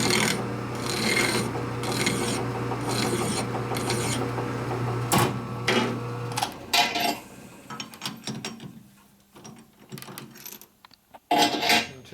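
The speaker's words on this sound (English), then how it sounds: "Take your crappy file, go like this, you hold it in and roll it." A file is rolled against threads on a big-bore motorcycle cylinder stud, giving repeated rough rasping strokes in a steady rhythm over a low machine hum, followed by sparser scrapes and clicks, close and fairly loud.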